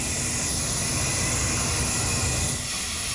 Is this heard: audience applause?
no